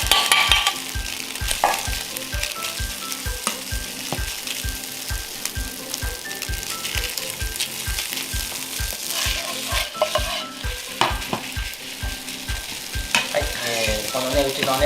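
Jasmine rice is stir-fried with half-set egg, with fast rhythmic clanks and scrapes of a ladle against a wok, over an unbroken loud sizzle; no speech.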